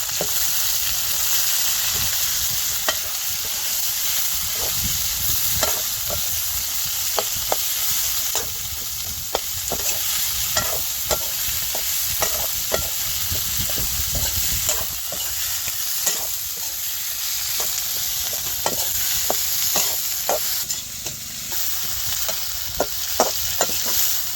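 Cabbage, beans, capsicum and green chili sizzle steadily in a hot pan for mushroom chilli, with a close, continuous frying hiss broken by frequent sharp scrapes and taps of stirring.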